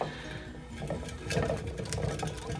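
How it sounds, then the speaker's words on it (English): Pet degus patter and clatter faintly, with a soft continuous rattling of their running wheel and light scurrying. "if you hear lots of clattering, wheel noise, drinking, that is the noise that they're making"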